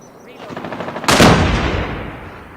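Rapid automatic gunfire in the video game Call of Duty Mobile, a loud close burst that swells into a booming blast and then fades, with faint game sounds underneath.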